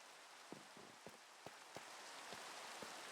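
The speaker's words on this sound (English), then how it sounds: "It's raining." Steady rain falls in the Minecraft video game, a continuous hiss with soft, scattered droplet taps, fairly quiet, with no voices.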